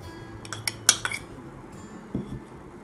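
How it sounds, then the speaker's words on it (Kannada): Metal spoon clinks against a bowl in a few quick, light taps while onion, tomato and boiled potato are mixed, followed by a soft knock and quiet room tone; no voices. "ಮೊದಲಿಗೆ ಈ ಎಲ್ಲ ಇಂಗ್ರೀಡಿಯೆಂಟ್ಸ್ನ ಮಿಕ್ಸ್ ಮಾಡ್ಕೊಳ್ಳೋಣ"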